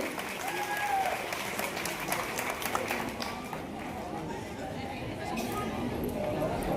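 An audience claps at a student honour ceremony held by a Prajapati youth development group in Anand, a sustained crowd applause that swells and fades with voices talking over it.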